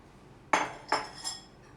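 Cooked steel cut oats being mixed in a bowl, three sharp clinks of a utensil against the bowl spaced about a third of a second apart, close and otherwise quiet.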